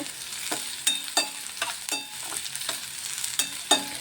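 Ginger, shallots and green chillies fry in hot oil for a ginger curry, a continuous sizzle broken by repeated scraping stirs of a spoon against the pan, close and alone without talk.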